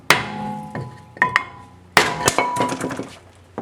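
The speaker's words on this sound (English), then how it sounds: "So you take your stick and your FBH and just tap it on the top and bottom" A hammer strikes a rusted brake rotor on a BMW 3 Series hub (E30, E36 or E46) in sharp, close, loud metallic taps, a few scattered blows followed by a quicker cluster of ringing hits.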